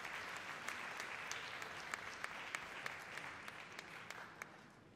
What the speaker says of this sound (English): please give a hand of applause to Jakob von Uexkull